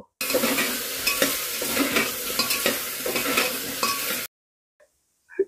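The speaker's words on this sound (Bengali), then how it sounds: "হাফ চামচ মতো হলুদ গুঁড়ো দিয়ে আবারও একটু ফ্রাই করে নেব" Chicken frying with turmeric powder in a pan for chicken stew, a close, loud sizzle with repeated spatula scrapes and metal clinks for about four seconds, then sudden near silence.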